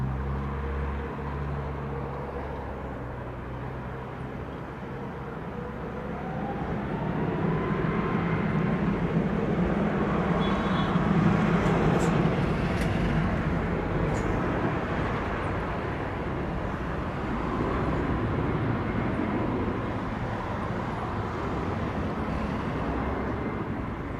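A Southwest airliner takes off from runway 07 at Montego Bay, Jamaica: a steady, distant roaring engine rumble that swells in the middle and holds broad and continuous, with no voices.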